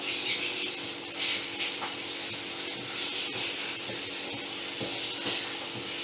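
Onions frying with salt and turmeric in a pan over a medium flame, giving a steady close hiss and sizzle with faint scraping, continuous throughout without talk.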